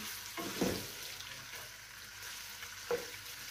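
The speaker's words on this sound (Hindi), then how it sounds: "चिकन को हम 10 से 15 मिनट के लिए ऐसे इसमें लहसुन में ही थोड़ा सा फ्राई करेंगे" Steady sizzling of chicken frying in garlic with a couple of soft stirring or scraping knocks, moderately close, no voices.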